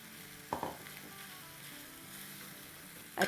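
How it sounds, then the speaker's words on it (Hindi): Shredded chicken sautéing with spices in a pan for desebrada sandwich filling: a steady, close sizzle broken by two brief scraping clatters of stirring, with no voices. "चले ये थोड़ा थोड़ा सॉटे हो रहा है"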